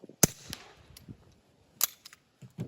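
Two sharp suppressed shots from a Beretta 71 .22 pistol fitted with a Rugged Mustang suppressor, firing hotter 42-grain ammunition, each a crisp close crack, spaced well apart with faint clicks and handling noise between.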